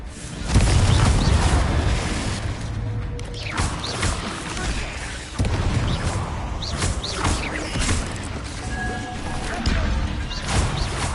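Repeated explosive spell blasts from combat in the Hogwarts Legacy video game, booming crashes and impacts set over a dense, continuous game soundtrack, loud and close, with several sharp hits spread throughout.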